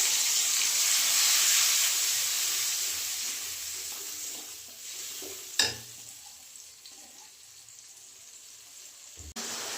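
Tomato paste and ginger sizzle in a pan, making a loud, steady frying hiss that fades somewhat over time, with a sharp clatter partway through and another clunk near the end.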